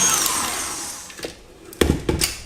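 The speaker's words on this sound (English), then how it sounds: "So I'm going to add about a tablespoon of milk and whisk again." A whisk beats apple tea cake batter after a spoonful of milk goes in, a steady whirring churn that fades into a lull before a few louder scraping strokes near the end.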